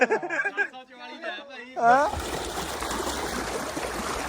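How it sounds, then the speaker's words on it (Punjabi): Irrigation water flows into a wheat field as a steady, close rushing wash that starts after someone speaks briefly and then continues alone. "ਪਾਣੀ ਚੱਲ ਰਿਹਾ ਕਣਕ ਨੂੰ"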